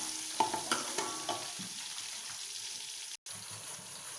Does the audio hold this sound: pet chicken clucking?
no